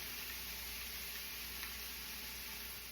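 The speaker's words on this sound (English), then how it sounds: "after we get the vegetables all sauteed up and looking good, we'll add some tomatoes." Vegetables sautéing in a hot pan, a steady soft sizzle of frying with no talk, fairly quiet and even throughout.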